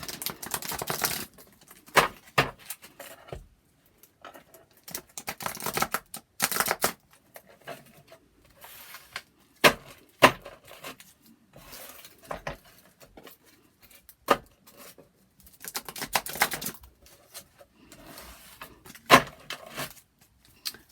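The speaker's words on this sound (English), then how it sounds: "Let's get these cards shuffled good." Repeated riffling and snapping of a card deck being shuffled, bursts of flicking separated by short quiet gaps, close and crisp.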